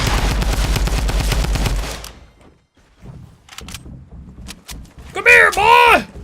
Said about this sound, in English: he can shoot the enemy with the heavy shotgun and then switch to his Tommy gun to clean up the kill